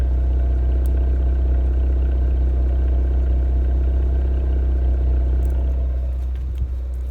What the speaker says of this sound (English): here's the exhaust at idle